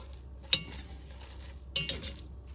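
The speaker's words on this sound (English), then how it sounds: "It's so much easier to break the meat up using this potato masher" A potato masher breaking up ground beef in a pan, two sharp metallic clanks against the pan bottom, the second a quick double, over a faint steady sizzle, near and moderate in volume.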